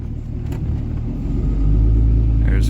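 Pickup towing a second truck on a pintle hitch rolls over a road bump; a steady low engine and road rumble swells and thickens partway through, close and continuous, with no voices.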